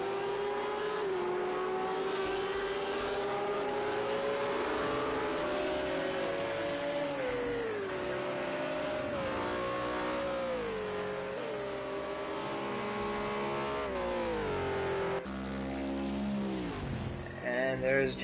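Race cars in a PS4 racing game on the Long Beach street circuit, engines howling loud and continuous with rising and falling revs through gear changes, a commentator talking over the top.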